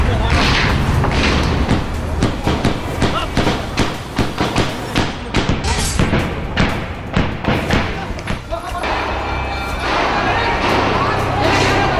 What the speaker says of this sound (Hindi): गोलियों की गूंज के बाद पहला धमाका